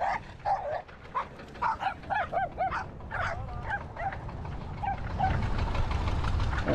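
Several dogs, three running loose in the Zamość countryside of eastern Poland, bark in repeated short bursts that fade into a rising, steady outdoor rumble of wind or road noise.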